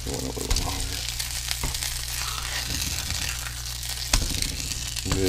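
Walleye fillets fry in a pan outdoors, a constant crackling sizzle with spatula scrapes and louder bursts as pieces are flipped, close and steady.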